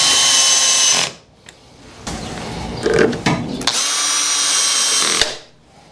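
A power screwdriver whirs in loud close bursts while driving screws into a PVC window mechanism part, with a quiet gap of handling clicks and rattles between the runs.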